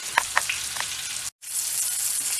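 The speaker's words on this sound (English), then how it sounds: "our tenderloin has been seared on all sides" Pork tenderloin sears in a hot pan, giving a steady close sizzle with a few pops early on and a brief break partway through, with no talking.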